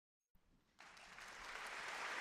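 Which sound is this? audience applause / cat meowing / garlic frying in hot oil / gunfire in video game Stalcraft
audience applause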